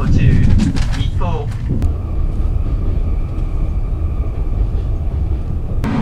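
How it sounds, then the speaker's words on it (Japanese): A JR East limited express Hitachi train, bound for Iwaki, runs at high speed through Adachi's Ayase area, making a loud, steady rumbling roar heard from inside, with a couple of sharp clanks and brief chirping sounds. "この特急日立号はすごいよ速さ、時速130キロ"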